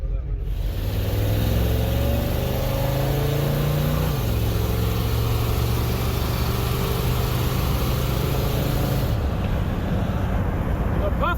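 Ford F100 pickup truck engine idling steadily with a low, continuous rumble close by, pitch stepping down slightly partway through, with voices talking over it.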